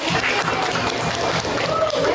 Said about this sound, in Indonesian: Beri tepuk tangan untuk Grace dan Gita.